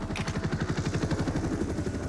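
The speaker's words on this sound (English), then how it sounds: "Enemy helicopter, get down." An enemy helicopter in the video game Modern Warfare 1 Remastered thumps overhead, its rapid rotor beat pulsing steadily and loudly on its own with no talk.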